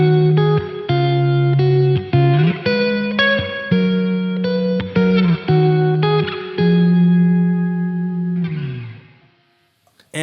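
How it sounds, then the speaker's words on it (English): An electric guitar runs through a Keeley Omni Reverb pedal switched on, with a string of strummed chords and picked notes trailing into reverb. A held chord then fades to near silence at the end. "So they are some of the sounds and settings in the Omni Reverb pedal by Keeley Electronics."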